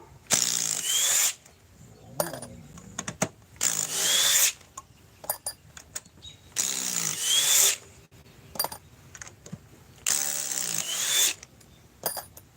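A DeWalt 860 impact driver runs in four separate whirring bursts of about a second each. Short clicks and handling knocks fill the gaps between them.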